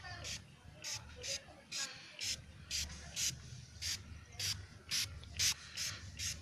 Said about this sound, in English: Hopefully, just want to spray the whole thing,